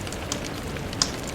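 Steady rain patters on a surface, an even close hiss with a couple of sharper drop splashes, heard alone as a story sound effect.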